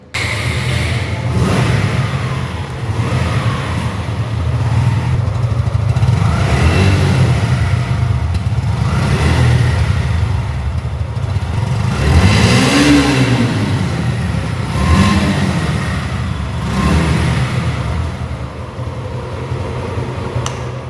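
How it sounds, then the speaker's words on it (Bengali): A second-hand motorcycle in like-new original condition has its engine started and revved repeatedly, loud and close, with rising and falling throttle sweeps over a steady idle. "গাড়ির সাউন্ডটি আপনারা শুনলেন"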